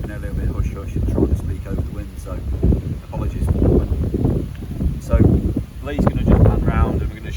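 Gusting wind at a fishing lake buffets the microphone in low rumbling surges that rise and fall, while someone talks over it throughout.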